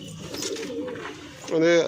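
Pigeons in a loft give a short, close, throaty coo near the end, after someone speaks over faint rustling.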